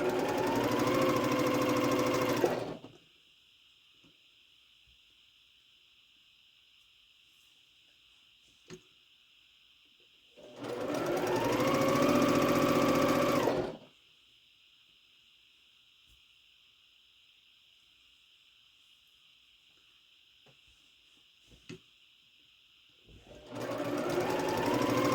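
A sewing machine pieces quilt blocks in three loud, steady bursts of rapid stitching, each running a few seconds, separated by long near-silent pauses with a faint background hum.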